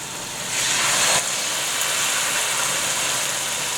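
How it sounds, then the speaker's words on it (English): Wine poured into a hot pan to deglaze it for French onion soup bursts into a loud hissing sizzle. A brief sharp surge of steam at the start then settles into a steady, even sizzle. "Deglaze the pan with wine."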